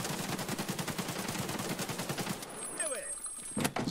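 Rapid bursts of AK-74 rifle fire in the shooter game Escape From Tarkov, steady repeated shots for most of the stretch before dropping off, with a final sharp report near the end.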